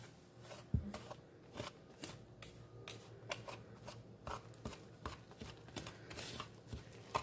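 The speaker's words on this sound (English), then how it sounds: "need 3 tablespoons of melted butter. And now we give a good mix" A spoon works cornbread batter with melted butter in a bowl, giving soft, quiet, irregular scraping and stirring strokes with a faint clack near the start.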